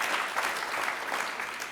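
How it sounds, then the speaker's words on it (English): Sustained applause from an audience at a business power breakfast, a dense, steady wash of clapping hands filling the room at moderate loudness without a break. "I'll ask you to hold your applause to the end."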